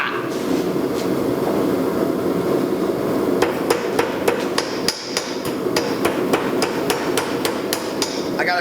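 Steel hammer blows forging a hot metal bottle opener on an anvil, a steady run of sharp, loud ringing strikes about two per second over a noisy workshop background.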